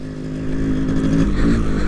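A Yamaha RX-series motorcycle engine rumbles steadily nearby with a low, throbbing drone that rises slightly as it rides along.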